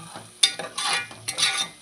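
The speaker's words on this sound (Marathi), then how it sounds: "फोडणी बसली वाटतं कुकरात" A tempering of oil with chilli crackles inside a pressure cooker, bursts of sizzle and spitting alongside stirring scrapes and a metallic clink, close and unaccompanied by talk.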